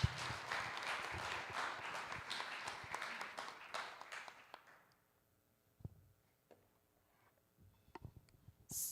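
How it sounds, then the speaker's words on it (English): Audience applause for a talk at a GNU Radio conference, a sustained round of clapping that fades out after about five seconds, followed by a few scattered claps and small room noises. "Let's give a round of applause."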